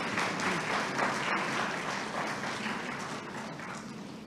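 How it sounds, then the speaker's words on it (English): Sustained applause from an audience at a 2018 investiture ceremony, a dense, even wash of many hands clapping that fades slightly toward the end. "Round of applause."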